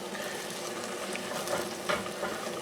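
A spoon scrapes and stirs the bottom of a pot of lentils and stock for a lentil shepherd's pie. A few short scraping strokes sound close over a constant simmering sizzle.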